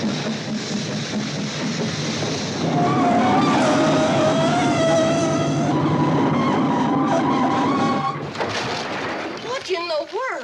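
Train braking to a stop before tires piled on the track: a long, loud metallic squeal of brakes with wavering pitch, fading out before a few final screeches.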